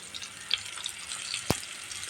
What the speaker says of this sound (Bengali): এই যে পেঁয়াজটা ভাজা হয়ে গেছে এখন আমি মশলাটা ঢেলে দেব